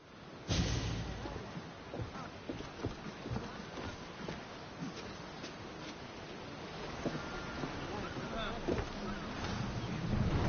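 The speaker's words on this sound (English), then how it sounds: "In position for sailing! The commander is taking the helm!" A sailing ship moves across the open sea in a PS4 game, with steady wind and water rushing around the hull, scattered creaks and splashes, and a voice talking over it.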